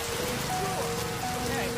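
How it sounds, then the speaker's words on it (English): Heavy torrential rain pours steadily on surfaces during a dramatic cave-rescue story, a dense, even hiss with faint tonal music threading above it and no voices. "On the 18th day, the torrential rain intensified."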